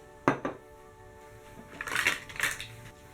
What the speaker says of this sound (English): In a small bowl, mix together your 1 1/4 cup of warm water, 1 of the teaspoons of salt, 1 of the teaspoons of sugar, and a package of your yeast.